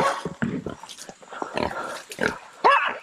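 Skinny wild pig sow grunting close by during a hunt, a series of short, rough grunts in uneven bursts with quiet gaps between, ending in a louder squealing grunt.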